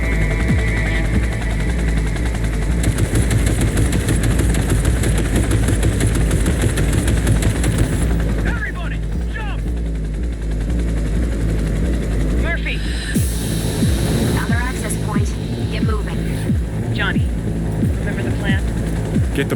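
Aircraft coming down to land in the video game Cyberpunk 2077, a steady loud engine throb and low hum running throughout, with a voice speaking over it in the latter half.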